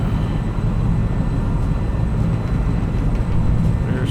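Aircraft engines roar steadily at full takeoff power during a night takeoff roll, a loud, continuous broadband drone that holds constant throughout with no talk over it.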